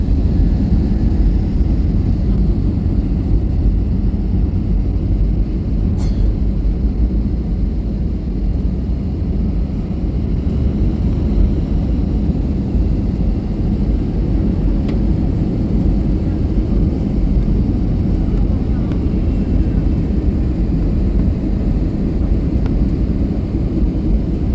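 Inside an airplane cabin on a flight landing in Kolkata, a loud, steady, low engine and air drone fills the space evenly from start to finish, and no one talks.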